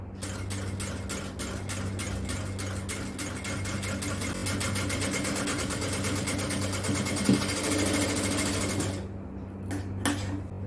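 A sewing machine stitches piping onto a sleeve of an XL jalabiya, running in a fast, steady mechanical whir with rapid needle ticks, close and continuous, then stopping near the end with a few brief bursts.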